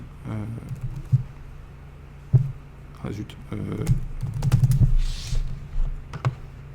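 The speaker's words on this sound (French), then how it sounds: "je tape mon mot de passe, hop, mon login" A password is typed on a computer keyboard in scattered, close key clicks with brief pauses, under a voice speaking French.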